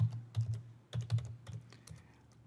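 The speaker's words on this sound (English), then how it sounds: "So we could type in Bob's information" Keys clatter on a computer keyboard as text is entered into a C++ program, coming in short irregular bursts of close, crisp clicks with brief pauses between them and no voices over the top.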